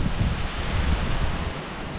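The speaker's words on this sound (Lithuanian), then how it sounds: "Vėjas nemažas." Strong wind buffets the microphone in loud, low rumbling gusts, a continuous blustery roar with no voices.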